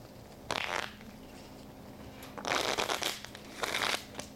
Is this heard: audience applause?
no